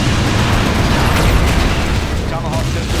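In a US versus GLA battle in Command & Conquer Generals Zero Hour, a cruise missile strike booms loudly, followed by a sustained, rumbling blast that fills the mix while game voices speak over it.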